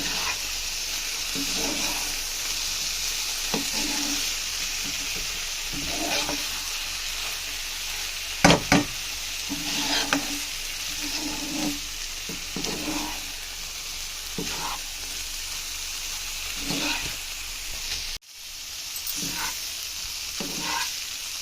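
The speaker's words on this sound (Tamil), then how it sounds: "இப்போ கிளறுங்க" Broccoli and egg sizzle steadily in a frying pan while a utensil stirs them in regular scraping strokes, close and fairly loud, with a continuous hiss under the repeated stirring.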